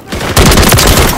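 Incoming gunfire strikes the player in Call of Duty: Modern Warfare 3, a dense, loud rattling burst of rapid hits lasting about a second.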